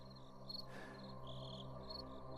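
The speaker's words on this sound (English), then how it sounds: "All Vince could hear were the crickets and his own breathing." Crickets chirp steadily in the quiet night, a faint, even insect trill with soft repeated pulses and no voices over it.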